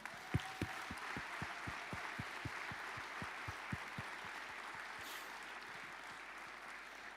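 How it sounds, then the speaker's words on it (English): Sustained applause from a conference audience honouring speakers at a security event, a steady wash of many hands with a fainter rhythmic thumping running underneath. "I think we should give them another warm round of applause"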